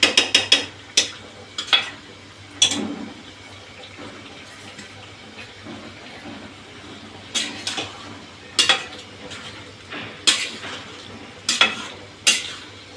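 Chicken for biryani being stirred in a pan, a spoon scraping and clattering in repeated sharp bursts over a low, steady cooking hiss.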